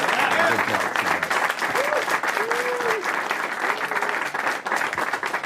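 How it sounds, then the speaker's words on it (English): A large crowd at a press conference on the James Zadroga 9/11 Health and Compensation Act claps steadily and loudly throughout, a dense, sustained round of applause with faint voices rising through it. "I think we should have a round of applause for Senator Gillibrand"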